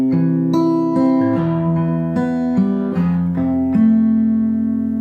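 Acoustic guitar fingerpicks the chord pattern of a song, steady plucked notes ringing over one another in a gentle repeating rhythm, close and clear with no voice.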